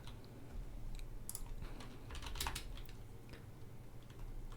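Keys tapped on a computer keyboard while entering a pip command to install Python packages, a steady run of light clicks over quiet room noise, no talking.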